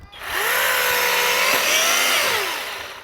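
An EGO Power+ multi-head power tool cuts through tree branches, its electric motor rising into a loud, steady whine that drops in pitch as it bites into the wood, then eases off.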